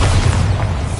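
A loud, close Bombarda explosion spell in Hogwarts Legacy, a single heavy boom that fills the whole second with rumbling blast noise.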